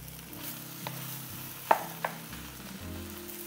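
A wooden spoon stirs and breaks up fried rice in a hot pan, giving a soft sizzle with gentle scraping and a couple of distinct knocks against the pan.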